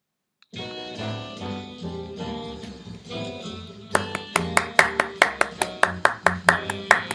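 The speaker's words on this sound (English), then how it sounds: "The instrument we will be using is clapping our hands." A pair of hands claps a steady 4/4 tempo in a K-8 music lesson, crisp evenly spaced claps entering partway through over recorded music, loud and close.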